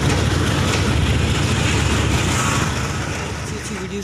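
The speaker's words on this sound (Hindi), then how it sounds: "ये कोयला वेन है, इसमें कोयला लेके जा रही है ये रेलगाड़ी।" A Pakistan Railways GEU 40 4000-horsepower locomotive hauls loaded coal wagons along the track at Samasata junction, a loud, steady rumble and rattle that holds close throughout and eases off slightly near the end.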